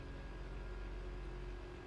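The engine of a dust buster machine in the video game Scrap Mechanic hums in a steady, low, quiet drone with a faint tonal whine and no variation.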